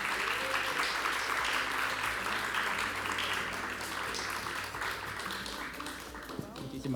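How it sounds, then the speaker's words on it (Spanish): An audience at an evening panel discussion on mental health in comics applauds to welcome a speaker, steady moderate clapping heard at some distance that continues throughout with a faint background murmur. "Por favor, reciban con un fuerte aplauso a Carlos Orozco."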